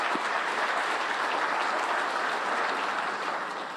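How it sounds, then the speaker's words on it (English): Sustained applause from an audience at a police promotions ceremony, a dense even clatter of many hands clapping for about four seconds, fading slightly at the end. "you deserve a huge round of applause"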